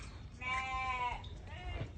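A sheep gives one wavering bleat, faint and somewhat distant, followed by a shorter second call, over quiet outdoor background.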